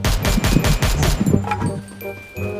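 Rapid bursts of gunfire crack out while shooting an enemy in the video game Free Fire, a fast volley of loud close shots followed by scattered game effects and fading tones.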